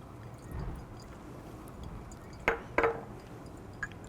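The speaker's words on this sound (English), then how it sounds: "pour everything in" Caffeine dissolved in dichloromethane is poured into a filter holding drying agent, giving a brief splash and trickle of liquid with a couple of glassy clinks, close and quiet against a soft room background.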